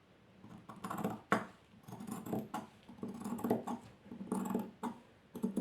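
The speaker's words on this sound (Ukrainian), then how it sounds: "і по цій лінії я вирізаю. викрою." Sharp scissors snip along a marked line through a paper pattern for a half-circle skirt, a close, quiet series of irregular crunchy cuts and rustles.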